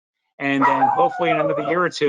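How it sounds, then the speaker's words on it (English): A dog barks in the background of an online meeting about in-stadium production workflow, its barks partly masked by someone talking steadily over them. "Sorry about the dog."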